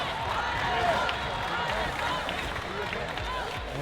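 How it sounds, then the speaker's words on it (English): A hometown crowd murmurs and calls out steadily at a Canadian national dodgeball championship gold medal match, a dense continuous babble of many voices with scattered claps and shouts throughout. "You can hear the crowd loving them in their hometown."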